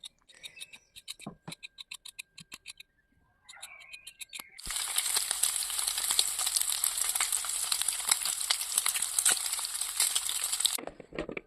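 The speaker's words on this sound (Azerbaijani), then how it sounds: "Quyruğu doğradıktan sonra yaxşıca duzlayıb tavaya əlavə edib yağı çıxana kimi qovururuq." Chopped, salted lamb tail fat is tapped and scraped on a surface before hitting a hot pan, then a loud, dense frying sizzle with crackling pops continues steadily until it suddenly stops.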